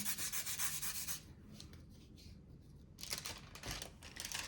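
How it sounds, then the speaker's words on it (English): Soft pastel burnished into paper through a sheet of glassine, rubbed round in circles; dry, papery scrubbing strokes in bursts, close and quiet, with a short pause in the middle. "I'm going to just lay it over that and go round and round in a circle. Burnish it in."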